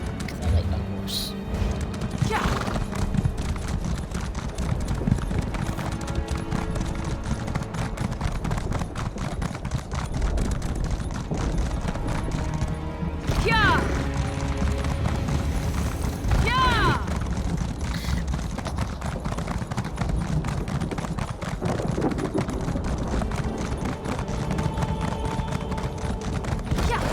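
Horse hooves clip-clopping at a steady gallop in The Elder Scrolls Online, the rhythmic beats running throughout under constant game music, with occasional voices speaking.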